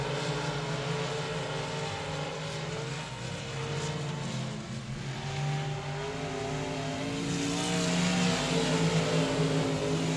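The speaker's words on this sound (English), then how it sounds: "That's Brandon Ball, the Bubba Green Towing Sponsor Express race car with your race lead" Race cars circle the Texarkana 67 Speedway track, a dense, continuous drone of multiple engines revving and passing, loud and close throughout with no talking.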